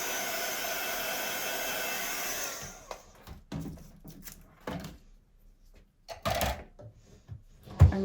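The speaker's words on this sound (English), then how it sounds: "Just give that a little dry with the heat tool." A heat tool blows a steady, loud whooshing hum over freshly stamped ink on a card for a butterfly-frame design, then stops, followed by faint handling clatter and taps on a craft table.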